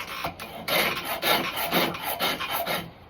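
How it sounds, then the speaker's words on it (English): A farrier's hoof rasp scrapes across wood in steady back-and-forth strokes while shaping an axe handle, about six rough, raspy passes, close and fairly loud. "farrier's rasp. It's meant for animal hooves"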